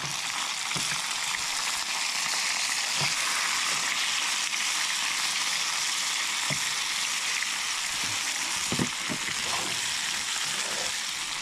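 Fish fries in a pan outdoors, a loud, continuous sizzle with scattered faint pops and clicks throughout.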